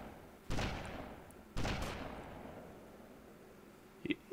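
Two sharp gunshots in the video game Grand Theft Auto Vice City ring out about a second apart, each trailing off into a long echo, followed by a couple of faint clicks.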